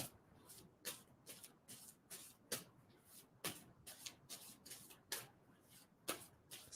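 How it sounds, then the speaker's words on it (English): Tarot cards shuffled by hand in quick, irregular riffling bursts, soft and close, with no talking. "And so I'm going to stop shuffling on that."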